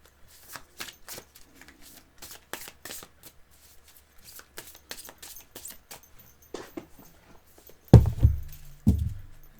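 A deck of oracle cards is reshuffled by hand, giving a run of soft rapid riffles and flicks, close and fairly quiet, ending in a few louder handling thumps.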